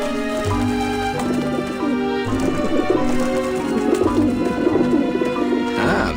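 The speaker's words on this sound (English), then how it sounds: "pigeons obviously like this dish vent" Pigeons perched on a dish vent coo repeatedly in the Grim Fandango video game, soft throaty calls layered over a steady droning background.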